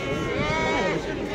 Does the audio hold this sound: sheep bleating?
yes